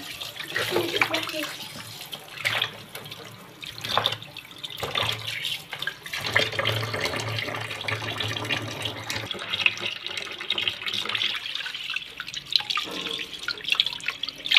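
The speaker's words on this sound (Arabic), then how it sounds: "همسك بقى الفراخ بتاعتي كده اغسلها برضو، اصفها بقى واغسلها" Raw chicken pieces rinsed under a running tap, steady splashing water with intermittent clatter and handling noises, close by, with someone speaking Egyptian Arabic in between.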